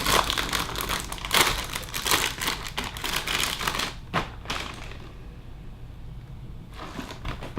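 A plastic bag of Ohs cereal is pulled open with loud, continuous crinkling and rustling up close, fading to near quiet before one last short crackle.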